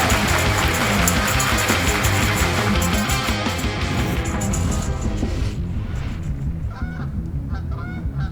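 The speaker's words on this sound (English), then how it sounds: "It's a flock of Canada geese preparing for their great winter migration." A flock of Canada geese honks loudly and constantly, the overlapping calls thinning out toward the end until a few separate honks remain.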